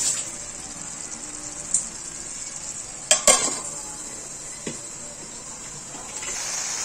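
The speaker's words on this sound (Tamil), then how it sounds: "இப்போ பாருங்கள், நல்லா கொதிச்சு வெந்துட்டுருக்கு கோக்கா." Ivy gourd (kovakkai) cooks in a covered pan over a slow flame, giving a soft continuous sizzling, bubbling hiss. A couple of sharp lid and pan clinks cut in near the middle, close by and without speech.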